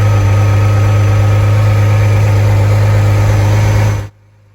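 A 1985 Ferrari Testarossa's flat-12 engine runs at a loud, close, steady idle with a deep low hum, then cuts off abruptly near the end, leaving quiet.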